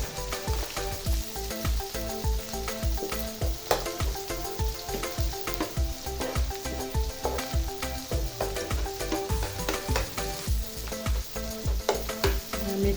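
Onions and chilies hiss and sizzle in a pan, with a spatula scraping and knocking in a fast, regular rhythm throughout, close and fairly loud.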